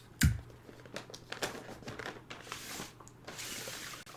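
Wrapping paper folded and taped around a birthday gift, heard as a sharp crinkle near the start followed by soft rustling, creasing and small tape sounds, close and quiet with no talking.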